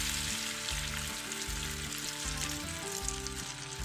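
Flour-dusted chicken pieces fry in hot oil with a dense, steady sizzle. Faint rhythmic music plays underneath.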